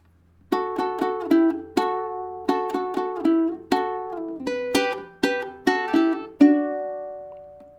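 Ukulele harmony picking pattern in a reggae feel, a string of crisp plucked chords in a lilting offbeat rhythm, clear and close with no voices.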